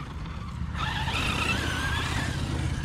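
An Arrma Mojave RC car skids across the ground, a rising scrape and squeal of tires with a whining motor, close and fairly loud over a constant rumble of background noise.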